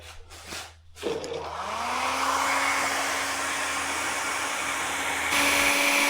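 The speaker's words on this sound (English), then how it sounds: "with the hairdryer, this comes off so much easier" A hair dryer whirs up to speed after a few brief noises, then blows with a steady, loud high-pitched whine for several seconds, used in a shop during a Honda XR650L brake light install.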